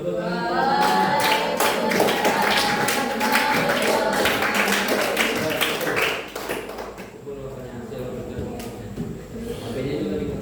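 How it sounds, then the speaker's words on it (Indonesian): Students clapping in a classroom after a group presentation, a burst of scattered hand claps lasting several seconds, with talking and chatter mixed in before the clapping fades to murmuring voices. "Oke, tepuk tangan."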